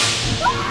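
A Gelsoft gel blaster sniper rifle fires a single sharp shot, a close whip-like crack with a brief swish trailing after it.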